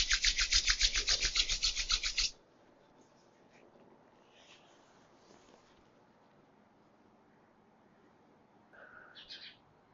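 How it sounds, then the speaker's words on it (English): Palms rub briskly together at the close of a meditation session, giving a quick, even run of dry rasping strokes for about two seconds before the room falls quiet. Faint chirps follow near the end. "Rub your palms"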